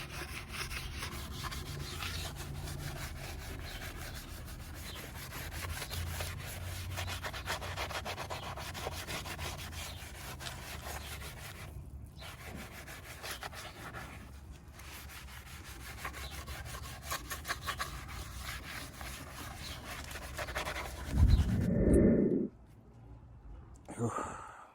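Steady scrubbing and rubbing on metal wheels being deep cleaned with kitchen spray, continuous close brushing strokes, with a thump and handling noise near the end.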